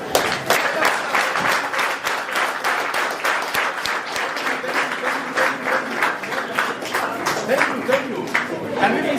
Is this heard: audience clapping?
yes